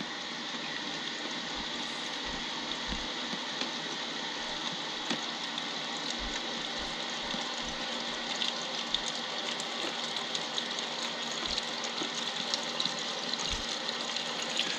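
Water pours from a Samsung fridge's built-in dispenser into a container as a steady, close rushing hiss lasting about fifteen seconds, with a few soft low thumps along the way and no voices.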